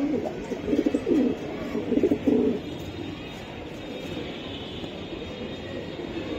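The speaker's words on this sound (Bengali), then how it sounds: "রেস করা কবুতর ভাই" Racing pigeons of Koopman and Kittel lines coo in several short, soft bursts early on, then a quieter stretch of background noise follows.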